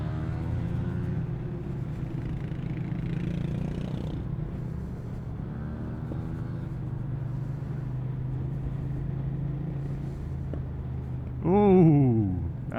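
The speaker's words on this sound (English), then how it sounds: "that Yamaha is popping" Motorcycle engine rumble in London traffic, a low continuous drone with shifting tones, then a brief louder burst of rising and falling revs near the end, from a Yamaha bike whose exhaust is popping.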